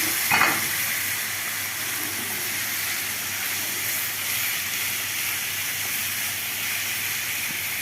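Chicken pieces dropped into hot oil for an oven chicken pasta dish, a brief splash followed by a steady, loud sizzle and hiss of frying throughout, with no talk.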